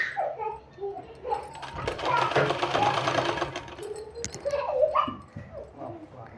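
A sewing machine stitching a fabric sleeve, one steady whirring run of stitches in the middle, with someone talking before and after it and a dog whimpering faintly.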